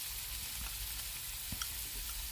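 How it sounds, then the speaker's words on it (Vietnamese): Minced pork sizzling in hot cooking oil in a pan, a steady crackling fry with a few louder pops and spatters, close up and continuous with no talking. "khi mà dầu ăn sôi lên rồi chúng ta cho thịt vào trước các bạn"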